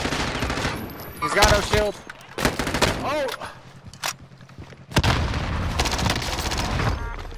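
Rapid gunfire bursts and automatic weapon fire from a video game squad fight, loud and repeated in clusters, with players talking over the shooting.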